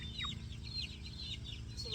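Chickens kept in a small chicken tractor house in a garden cluck and chirp steadily and continuously at close range, with a low rumbling background beneath the calls.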